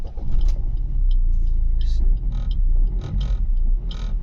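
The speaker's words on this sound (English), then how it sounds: "And I'll prove it as I start the engine." A Suzuki Ertiga car's engine starts and idles, a steady loud low rumble running throughout with brief higher mechanical clatters on top.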